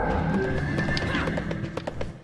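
A horse in the video game Abyss Odyssey 2 whinnies loudly up close, its neigh rising and falling, with hoofbeats clopping underneath and a few sharp game sound effects.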